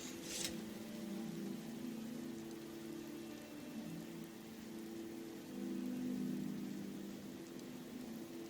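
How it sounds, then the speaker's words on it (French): Rain falls steadily in the video game Skyrim, a soft continuous patter with a low hum beneath it and a brief sharp sound at the start, with no voices. "Puis la pluie est vraiment bien faite."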